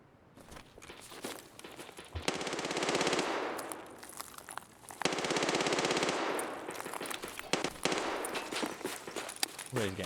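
Automatic gunfire in a first-person shooter comes in two long sustained bursts separated by footsteps and mechanical clicks of handling and reloading. The shots are loud and close, with a few scattered single clicks and thumps between them.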